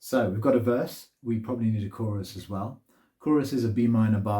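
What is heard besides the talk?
No everyday noises stand out.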